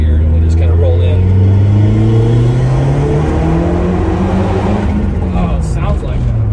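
A 1990 Lotus Esprit SE engine revs hard under a bridge, a loud rising roar that climbs in pitch through the gears and echoes off the enclosed space, with people talking over it.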